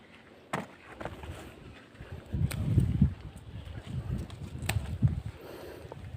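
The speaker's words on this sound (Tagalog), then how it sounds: "Pag humangin dito mga idol ay may kalakasan ditong hangin." Gusty wind roars across an open bitter gourd (ampalaya) farm, rising and falling in low buffeting waves with a few sharp knocks, no talking.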